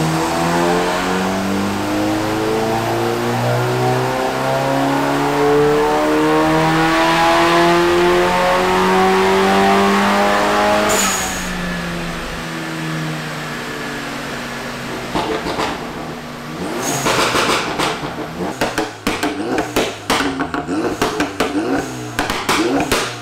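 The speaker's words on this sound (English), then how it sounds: "We got a GLI sitting fresh on the dyno, ready to throw down stage two numbers." A 2017 Volkswagen GLI 2.0T with a Stage 2 tune revs hard on a dyno, its loud engine note climbing steadily through the gears. After the pull it drops away into crackling, popping exhaust bursts on the overrun.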